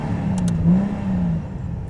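A Nissan Skyline GT-R with a dual-clutch automatic gives a brief engine rev as it blips on a downshift, a loud, close drone that swells and settles within about two seconds.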